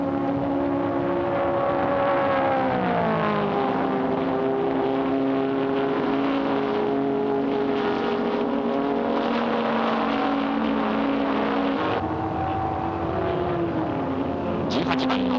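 Nissan R381 race cars roar loudly around a hairpin curve in a 1960s-era race, engine notes sweeping and shifting as they brake and accelerate through the bend, with a steady sustained drone throughout.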